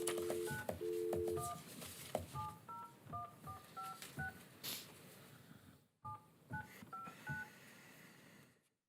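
Touch-tone DTMF dialing on a phone line setting up a conference call during a commission meeting: a quick run of distinct beeps, a pause, then another short sequence of tones, fairly clear over faint room noise.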